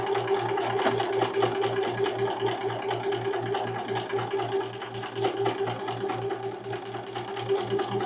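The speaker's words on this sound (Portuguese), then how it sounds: "Você vai virar tudo para cima e passar uma costurinha. Bem rente. Em cima do viés." A sewing machine runs at a steady, even speed, stitching close along the bias binding of a child's pajama piece. Its rhythmic whirring hum continues without a break from start to finish.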